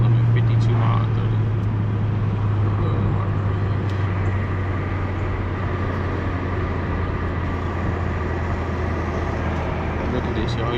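A BMW M5 cruises through traffic, its engine and road noise forming a steady, continuous low drone heard from inside the car.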